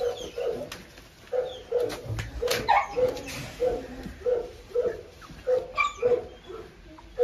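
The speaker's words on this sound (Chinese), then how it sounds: "这个8只小狗第一次出来啊，现在今天是20天了。" Litter of 20-day-old Canary Mastiff puppies, mostly brindle, whimpering and yelping in a rapid series of short, high cries close by, with no one talking.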